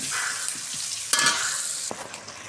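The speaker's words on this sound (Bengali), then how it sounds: "পেঁয়াজটা লাল করে নিব" Onions frying in a pan until reddish, a close, continuous sizzle broken by a couple of brief stirring knocks against the pan.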